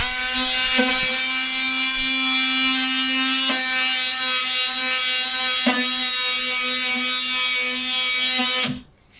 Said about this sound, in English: now we're gonna use the sanding attachment for the oscillating tool